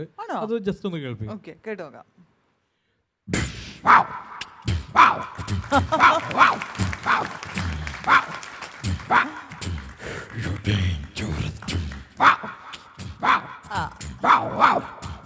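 Someone speaks, pauses, then a performer imitates Michael Jackson's house dog with a rapid run of yelping, stylised bark-like vocal bursts, loud and close, mixed with audience noise.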